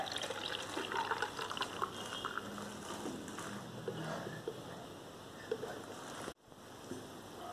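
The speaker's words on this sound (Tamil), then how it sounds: "காஃபியை இதில் ஊற்றிக்கலாம்." Frothy homemade chocolate cold coffee, made without ice cream or a machine, is poured into a glass. A soft, continuous trickle of liquid runs for several seconds, then a brief gap, then it resumes.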